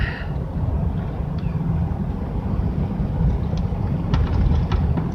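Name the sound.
trucks passing on a rural road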